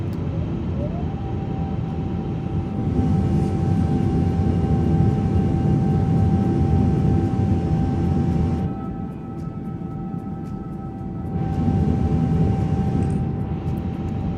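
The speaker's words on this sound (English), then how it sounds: "listen carefully for the flap sounds, because this is very unique to the 350" Airbus A350-900 wing flaps moving in Microsoft Flight Simulator 2024, a steady low mechanical whir and hum that swells for several seconds, drops away briefly, then returns under constant cockpit engine drone.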